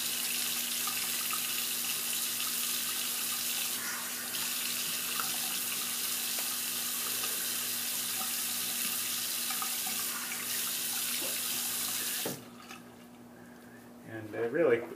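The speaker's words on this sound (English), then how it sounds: "Just rinse off my face and I'll go ahead and apply my" Tap water runs steadily into a sink as a face is rinsed after shaving, a loud continuous rush that stops near the end, followed by brief handling sounds.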